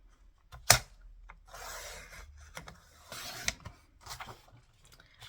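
A paper trimmer cuts paper: a sharp click, then several dry rasping slides of the blade, fairly close in a quiet room, with no talking.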